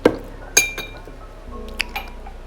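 Glass tumblers and ceramic pieces clink sharply as they are set down and arranged in a kitchen, a few separate bright clinks spaced irregularly over a quiet background with a low hum.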